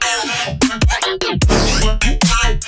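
Second drop of an electronic track, with bright layered synths hitting in rhythmic stabs over deep bass pulses, loud and dense with sharp gaps between chords.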